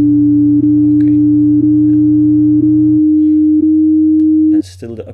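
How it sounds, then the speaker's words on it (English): Synthesized MIDI playback of steady sine wave notes in an upper line over lower notes on a triangle wave, clean sustained electronic tones that change pitch partway through, then a brief voice at the end. "normally you should hear now the lower notes on MIDI channel 2 play back with a triangle wave"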